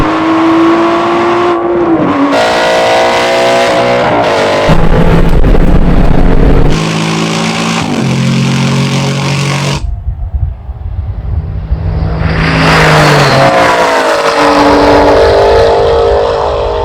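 Aston Martin race cars accelerating hard in a drag race, loud engines roaring and rising in pitch through gear changes, with a brief lull before another car surges past close by; no talking.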